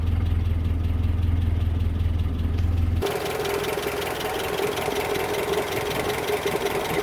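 A Land Rover Series IIA engine idling cold while warming up, a steady low rumble that shifts abruptly to a rougher, busier running note partway through, continuous and close.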